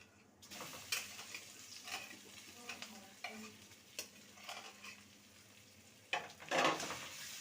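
Mashed boiled potato and spice powder being stirred and sautéed in a pan for a vegetarian Bengali dish, with soft intermittent scraping and a low sizzle close by and a louder scrape near the end.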